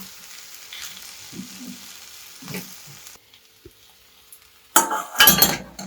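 Vegetables in a farali dish sizzle softly in a pan with faint spoon scrapes. After a quiet gap, a loud burst of stirring follows, clattering and hissing up close.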